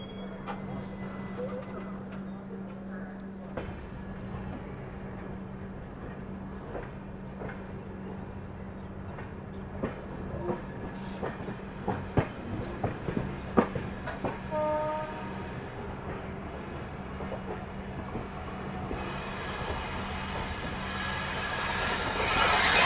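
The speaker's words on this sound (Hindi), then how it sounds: "डिपार्चर अपना हो रहा है अंबाला कैंट स्टेशन से" The Amritsar Mumbai Express pulls out of Ambala Cantt station with a steady low hum and clattering, rising wheel and coach rumble, and a horn blast near the end. Voices are faintly heard through it.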